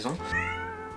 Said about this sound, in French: C'est notre chat.